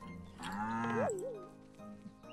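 A farm cow in the Staxel video game gives one drawn-out, wavering moo close by, followed by quieter low grunts against otherwise quiet surroundings.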